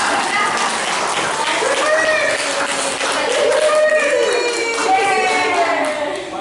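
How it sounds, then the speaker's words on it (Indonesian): A group of teacher trainees claps together at a school gathering in Cirebon, with continuous, fairly loud patter of hands and a few voices and cheers rising over it. "Terima kasih dan tepuk tangan untuk kita semua."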